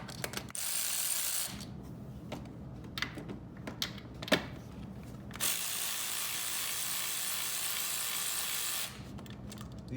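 Harbor Freight Earthquake ratchet backing out 10mm coil pack bolts on a C5 Corvette engine, a loud close rapid clicking that comes in two long bursts with a few sharp metallic taps between them.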